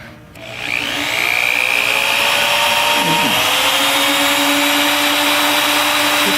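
A hole saw with tungsten carbide teeth grinds into 10 gauge stainless steel with a steady, loud, high-pitched whine that holds constant after spinning up.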